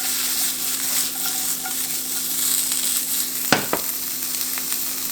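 Onions frying in a pan with fajita seasoning, giving a steady, close hiss and sizzle with light stirring scrapes and a sharp utensil clack near the end.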